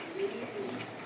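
Racing pigeons kept at a club loft give two soft, low coos a fraction of a second apart, faint and close against a quiet background.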